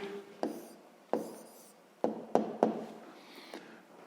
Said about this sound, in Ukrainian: Ну що ж, записуємо відповідь.